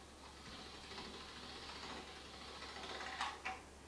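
Dough is fed through a hand-cranked dough rolling machine, giving a quiet, continuous mechanical whir and rattle. Two sharp clicks come near the end, and no one speaks.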